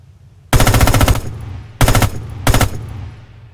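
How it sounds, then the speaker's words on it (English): MG-34 light machine gun, bipod-mounted with a 50-round drum, fired in the game Red Orchestra 2 Heroes of Stalingrad: three loud, close automatic bursts, a long opening burst followed by two shorter ones, each with a fading echo tail. "This is the MG-34 light machine gun."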